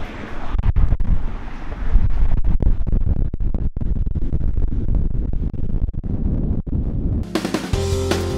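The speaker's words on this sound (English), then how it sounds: "It's a little bit windy out here" Strong wind gusts buffet the microphone outdoors, a loud continuous roar with rumbling bursts running for most of the stretch before it cuts to a different, steadier sound near the end.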